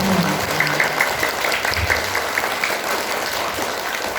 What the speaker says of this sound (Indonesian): Tepuk tangan dulu buat adik-adik SD 3 Batu